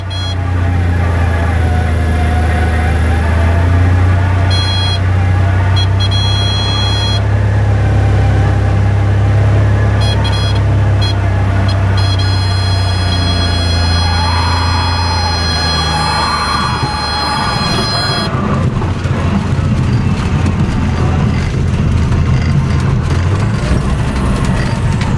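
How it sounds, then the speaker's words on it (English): A CJ-6 Nanshan military trainer with a radial piston engine takes off from a narrow strip at Falls City, producing a loud, sustained engine roar with a steady low drone and a whining upper tone that swells and shifts as the power builds. "This is the CJ-6 Nanshan military trainer taking off from Falls City"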